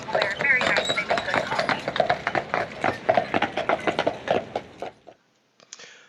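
Horse-drawn carriage hooves clip-clop in a steady rhythmic patter on pavement in Voyageurs National Park, fairly close, with voices talking over them before the sound fades out.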